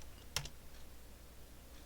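Keys are tapped on a computer keyboard, mostly one sharp clack followed by a faint tap against quiet room tone.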